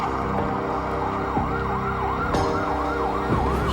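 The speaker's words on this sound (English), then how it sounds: "And those are the police sirens," Wailing police sirens rise and fall repeatedly in a continuous cycle, fairly loud over a steady traffic rumble, with no voices.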